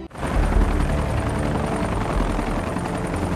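A helicopter flies close overhead, its loud, steady rotor drone and engine roar continuing throughout with no voices.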